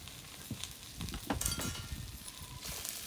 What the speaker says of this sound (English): Allow it to stir fry, so that the oil